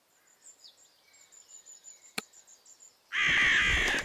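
Crows cawing in the zoo management video game Zoo 2: Animal Park, a steady run of repeated calls over about three seconds, ending in a loud burst of game noise.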